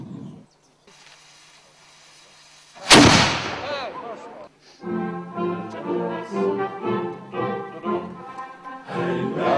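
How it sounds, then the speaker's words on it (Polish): Ceremonial cannon fired at a shooting range during a marksmen's fraternity king's enthronement in Poland: one loud, sharp boom after a quiet stretch, followed by voices singing a patriotic song. "Pierwszego króla zachodniopomorskiego proszę do armaty."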